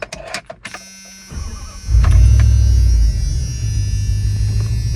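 The engine of a 1970 Ford Maverick, worked on in the snow, goes from a few clicks and a brief hum into a loud, deep, sustained full-throttle roar that steadies slightly lower toward the end.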